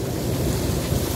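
Small hard hail-like snow pellets pouring down in a storm onto a van outdoors, a dense, steady roaring patter that fills the moment without letting up.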